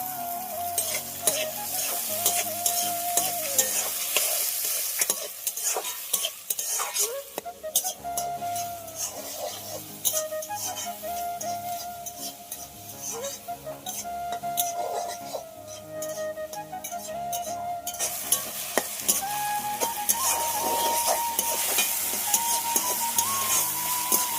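Chopped tomato goes into spice paste with garlic paste, frying in a pan over a clay stove, giving a steady sizzle with stirring scrapes and clinks throughout and a brief quieter stretch partway.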